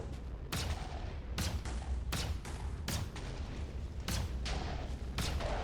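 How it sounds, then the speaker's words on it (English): A crab cannon weapon fires repeatedly in a modded Minecraft superhero game, sending out heavy booming blasts in a regular rhythm of about six bursts, loud and continuous, with no talk. "Crab cannon."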